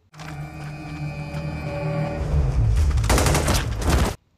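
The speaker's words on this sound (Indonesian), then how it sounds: "Namun tiba-tiba, Mukun dikagetkan dengan sebuah tembakan" Rapid bursts of automatic gunfire in a military film rattle on over a tonal background, growing denser and louder before cutting off abruptly.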